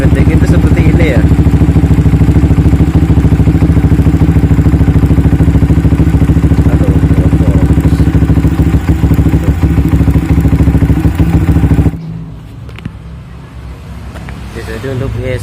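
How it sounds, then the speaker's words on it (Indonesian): A Yamaha R15 V3 motorcycle engine idles close by after a throttle body swap from a GSX150, a loud steady mechanical clatter and hum that drops abruptly near the end, with someone talking over it. "Kita nyalakan mesinnya. Atau langsam R15 V3 itu seperti ini ya."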